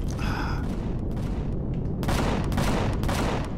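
Spaceship weapons firing in Empyrion: a steady dense roar of rapid gunfire, with a brief tonal buzz near the start and heavier bursts of crackling shots in the second half.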